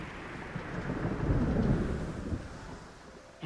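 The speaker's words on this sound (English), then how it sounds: "Terrible storm came upon them." A thunderstorm with a long, deep rumble of thunder that swells and fades over steady rain, heard fairly close and without speech.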